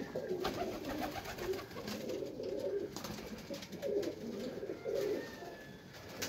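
Teddy pigeons in Kasur, Pakistan coo repeatedly in soft, low throaty calls, several birds overlapping at moderate distance amid faint background noise.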